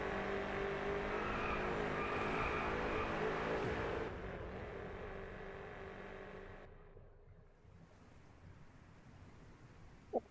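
Racing car engine in a video game time trial, revving steadily with tire noise for about four seconds, then fading to a quieter hum with a sharp click near the end; no talk.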